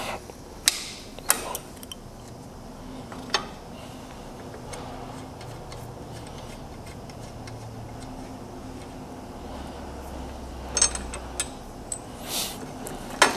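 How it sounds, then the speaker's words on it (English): Wrench work on a Norfield 4000 machine as a bolt is loosened and its nut removed: scattered metallic ticks, clicks and ratchet-like creaks, sparse and close, over a faint steady background hum. "I'm going to loosen this bolt here."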